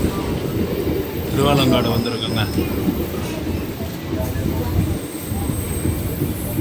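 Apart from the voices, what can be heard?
MEMU local train running on the tracks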